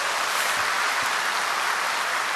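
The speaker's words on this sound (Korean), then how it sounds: "우리 그라시아스 박수 한 번만 더 치겠습니다" Sustained applause from a church seminar audience in Incheon, a steady dense wash of many hands clapping at moderate distance for the whole stretch, with no voices over it.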